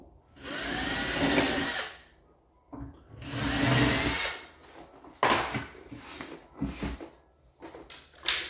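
A hammer drill bores into the thick lower trim of a kitchen cabinet in several loud bursts of about one to two seconds each, separated by short pauses and followed by scattered knocks and handling sounds.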